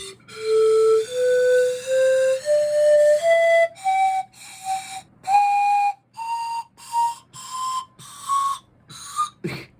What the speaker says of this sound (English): Okay, so I'm officially done with the pan pipe.